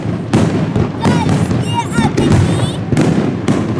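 Fireworks set off for a private wedding celebration in Dubai burst in a rapid series of loud booms and crackles, with whistling trails between blasts and voices talking underneath.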